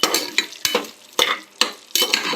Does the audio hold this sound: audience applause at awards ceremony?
no